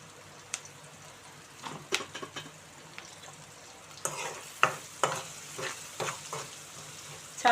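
Onions sizzling and frying in a pan for chicken gongura curry, a soft continuous hiss punctuated by repeated stirring scrapes and clinks, louder in the second half.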